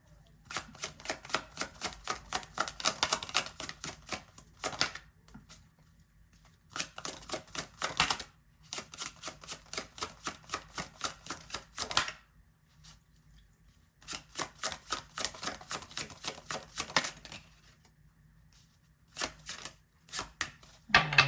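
Tarot cards are shuffled in repeated bursts of rapid, crisp riffling clicks, several separate rounds broken by short quiet pauses, close and clear with no talking.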